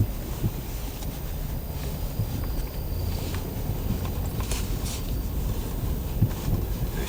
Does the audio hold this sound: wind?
yes